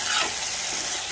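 Banana kofta curry being stirred in a frying pan gives a short burst of hissy sizzle and scraping, close and steady, with no voices.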